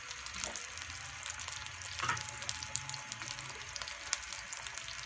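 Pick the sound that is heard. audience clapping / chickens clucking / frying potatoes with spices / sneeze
frying potatoes with spices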